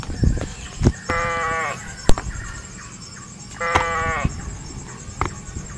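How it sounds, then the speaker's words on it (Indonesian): Garut sheep bleating in two wavering, tremulous calls of about a second each, close and clear, with scattered clicks and background noise between them. "Yang ini domba, domba Garut teman-teman."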